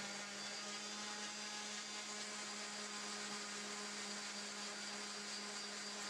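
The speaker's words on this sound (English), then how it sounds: "I then use an orbital sander." An orbital sander buzzes steadily and loudly on cholla cactus knife scales, a constant whirring drone with a fixed motor hum throughout and no pauses or voices.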